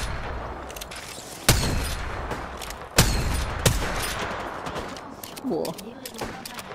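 Gunfire in the Apex Legends video game: a few sharp, loud single shots stand out at intervals over a busy background, with a voice speaking briefly near the end.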